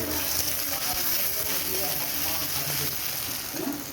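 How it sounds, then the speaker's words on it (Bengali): Tomatoes frying in a pan with ginger and garlic, a steady, dense sizzle that holds at a constant level throughout with faint scraping underneath. "আদা রসুন দিয়ে কষানো হচ্ছে। তারপরে এবার এই টমেটো দিয়ে দিলাম"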